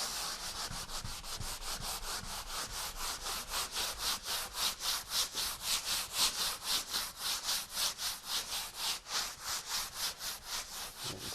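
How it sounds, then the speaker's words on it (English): Drywall wall being hand sanded in rapid, even back-and-forth strokes, a loud rhythmic scratchy rasp repeating about three times per second and building slightly in the middle, with no voices. "So it's just simply sanding."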